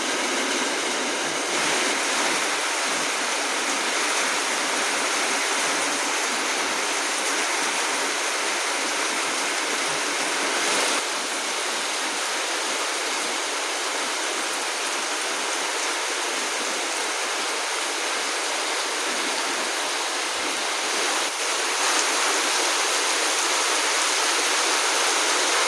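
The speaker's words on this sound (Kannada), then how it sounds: "ಚಂದ ಮಳೆ ಆಗ್ತಾ ಇದೆ." Rain falls steadily outdoors as an even, moderately soft wash of hiss that continues without a break, with no voices over it.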